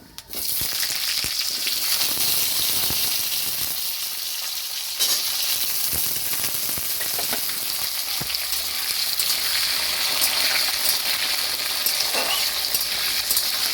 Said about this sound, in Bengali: আলুটা একটু ভাজা করে নেব।